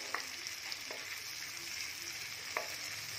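Paneer cubes shallow-frying in butter until golden brown, giving a quiet, steady sizzle with a few soft taps and clinks of a spatula against the pan.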